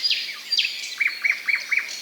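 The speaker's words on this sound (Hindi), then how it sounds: "प्यारी सी चिड़िया, इसकी आँख में कितनी चमक है।" A small bird in a garden chirps close by, first giving a few sweeping high notes and then a run of four quick, evenly spaced tweets.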